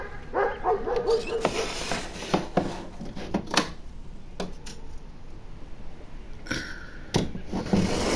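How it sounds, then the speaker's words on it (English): Indoors, a dog barks in short irregular bursts that come and go over several seconds, mixed with clinks like dishes or cutlery, and the barks sound moderately close. "Let's see if I can mute the dog barking."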